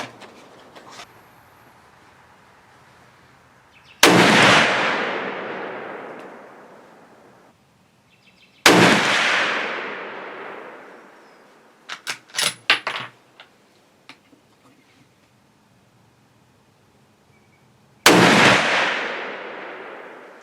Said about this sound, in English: I'm just going to go ahead and start shooting the American Whitetail ammo.